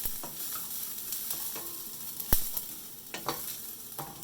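Garlic sautéing in a hot pan, a continuous soft sizzle broken by a few sharp scrapes and clinks of a stirring spoon against the pan, close and alone with no talking.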